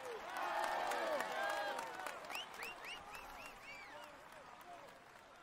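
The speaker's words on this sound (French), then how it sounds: "vous pouvez l'applaudir bien fort" Crowd applause in the Tour de France 2015 cycling video game, stage 9 Vannes–Plumelec, a dense clapping wash that fades gradually while a French commentator speaks over it.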